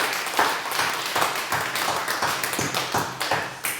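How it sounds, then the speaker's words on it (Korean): A church congregation claps in brisk, fairly even rhythm for a few seconds during a Sunday service, the sharp hand claps filling the room with no voices over them. "여러분 다시 한번 주님께 영광의 박수"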